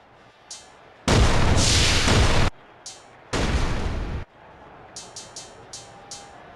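Pyrotechnic blasts go off at a wrestler's ring entrance in WWE Day of Reckoning: two long, loud roaring bursts with sharp pops around them and a quick run of smaller pops at the end.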